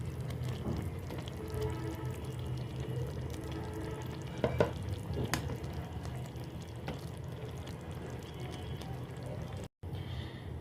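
Chicken frying in oil with a little sour yogurt added, a steady low sizzle and bubbling from the pan with a few brief clinks of utensils, close and fairly quiet.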